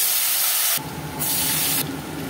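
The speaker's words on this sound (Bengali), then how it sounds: "ভেজে নেব আলু" Potatoes frying in hot mustard oil in a kadai, a loud broadband hiss and sizzle that surges when the pieces go in, steady and close.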